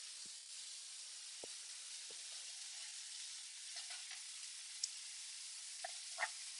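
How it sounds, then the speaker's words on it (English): Rolled chicken roulade sears in a hot pan with a constant, fairly quiet hiss of sizzling fat, broken by a few soft taps and scrapes, no voices. "Let some of that sear happen."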